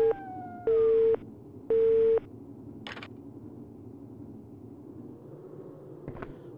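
A telephone busy tone from the Resident Evil Survivor game sounds as two loud, evenly spaced beeps, followed by quiet ambience with a few faint clicks.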